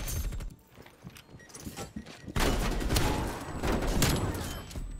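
Rapid shotgun blasts in a first-person shooter video game, dense loud bursts of gunfire that grow heavier partway through, with no talking.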